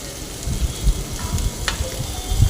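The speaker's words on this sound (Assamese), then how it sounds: "বাদামখিনি অকণমান ভাজি ল'ব লাগিব।" Peanuts frying in a pan with onion and tomato give a steady, moderate sizzle with soft low crackles and an occasional sharper tick, heard alone without talk.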